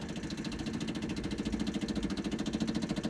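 The engine of a 1972 Fiat 850 Sport Spider with fuel problems runs near at steady idle, with a rapid even pulsing knock throughout and no talk.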